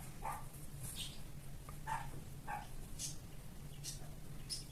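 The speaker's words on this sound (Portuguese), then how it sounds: "Desculpem o barulho do cachorro" A dog barks repeatedly in the distance, short faint yaps at irregular intervals over a steady low hum.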